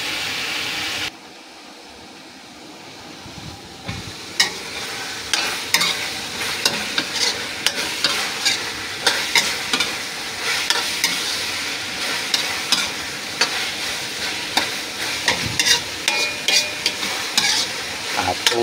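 Pancit gisado noodles stir-fried with oyster sauce and a little soy sauce, a steady sizzle under repeated scraping and stirring strokes that keep a loose, uneven rhythm close to the pan.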